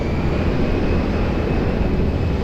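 A steady, loud jet roar fills the air as an airliner takes off from runway 20 at Lisbon Airport, its engines holding a dense, even rumble throughout.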